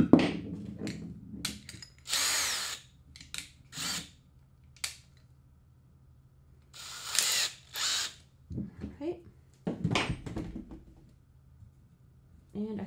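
A power drill drives screws into wood while a grill cart frame is being built, with several short whirring bursts separated by pauses, handling clunks, and a person speaking between runs.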